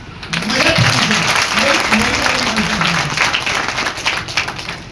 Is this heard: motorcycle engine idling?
no